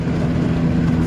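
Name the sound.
wind buffeting in Ford Focus ST cabin, window down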